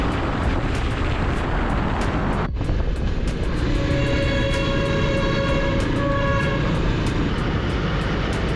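Train passes close by with a loud, continuous rumble and rolling roar. Sustained squealing tones rise partway through, with sharp rhythmic clacks of wheels over rail joints.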